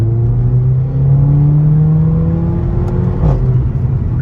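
A Mercedes A45 AMG with a four-cylinder turbo engine accelerates, its loud steady drone climbing in pitch over several seconds with no break, heard up close from inside or near the car.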